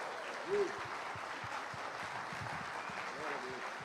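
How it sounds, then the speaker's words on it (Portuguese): Worship congregation clapping for the Lord during a church service, moderate and steady applause throughout, with brief sung or shouted voices rising over it. "Aplauda o Senhor."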